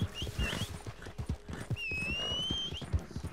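Horse hooves clip-clop in a steady rhythm close by, with a horse whinnying partway through over a noisy background.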